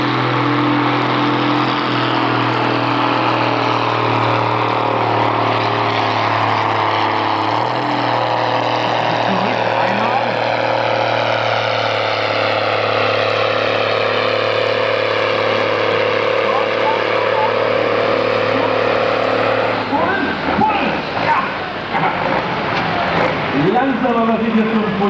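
Pulling tractor engine at a tractor pulling event in Verl, Germany, roaring loud and steady with rising revs, then an abrupt gear shift near the end as the tone drops and turns rougher, with an announcer talking over it.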